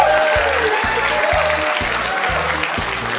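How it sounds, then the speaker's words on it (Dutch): An audience at a student competition event applauding warmly, dense sustained clapping from a crowd with a lively rhythmic pulse throughout. "Geef Tim een warm applaus."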